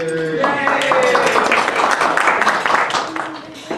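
Applause from a small audience at a community meeting, a dense run of many hands clapping that holds for several seconds, with a voice heard briefly at the start.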